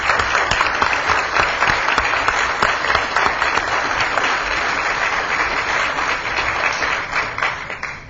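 Sustained round of applause from the audience at a council meeting honoring a Merchants Association member, steady dense clapping that fills the room for the full stretch with no talk over it.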